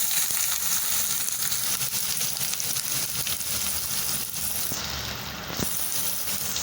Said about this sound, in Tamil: இப்போது அதே எண்ணெயில் வெங்காயத்தை நல்லா பொன்னிறமாக பொரிச்சு எடுத்துக்கலாம்.